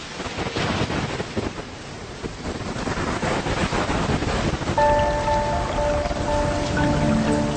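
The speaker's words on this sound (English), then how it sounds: "Huge icebergs calve into a stormy and fast-rising ocean" A stormy, fast-rising ocean on an alien moon with icebergs calving and ice cracking and melting, heard as a dense roaring wash of surf and rain-like crackle under swelling sustained musical tones.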